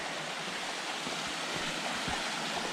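Mountain stream rushing steadily through a flume on the Mount Kinsman Trail, a close, continuous broadband roar of water with no other sounds.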